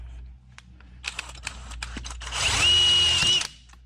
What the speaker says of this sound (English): Doing it in the vise with the old cordless drill